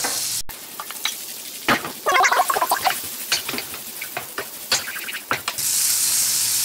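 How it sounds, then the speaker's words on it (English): Two teaspoons of butter melt in a hot pan, crackling and sizzling up close with bursts of spattering pops and a steady hiss that swells toward the end. "pan ചൂടായിട്ടുണ്ട് butter ഇടാം ഇത് 2 ടീസ്പൂൺ ബട്ടറാണുള്ളത്"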